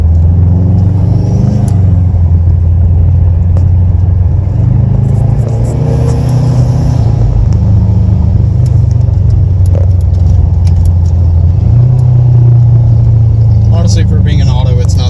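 A 2005 Subaru WRX with an automatic transmission drives along with a loud, steady engine rumble and road noise heard from inside the cabin, rising slightly at times.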